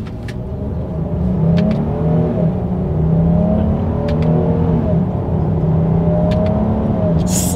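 A 2021 Jeep Grand Cherokee L three-row SUV accelerates hard on a straightaway during a paddle-shifter test, its engine droning loud and continuous with climbing revs and brief shift dips, close and steady throughout.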